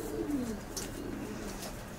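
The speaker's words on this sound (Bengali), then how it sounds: "মাখি কবুতর আছে এবং জ্যাকোবিন আছে, সাথে আছে ময়না, ব্ল্যাক ময়না, গোলা কবুতরও আছে।" Pigeons coo in a loft also housing Jacobin pigeons and black mynas, a soft low cooing near the start over a steady bed of faint bird chatter and rustling.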